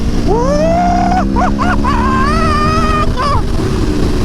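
A 2017 Aprilia Tuono V4 1100 Factory motorcycle engine runs loud and close, its pitch climbing and dipping with revs in a continuous roar.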